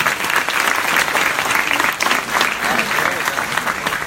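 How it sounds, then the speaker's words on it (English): An audience at a startup demo day claps steadily and loudly for several seconds, a dense, sustained round of applause. "Give it a round of applause."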